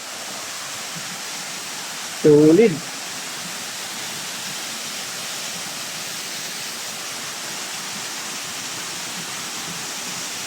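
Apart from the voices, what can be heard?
water rushing at Wawa Dam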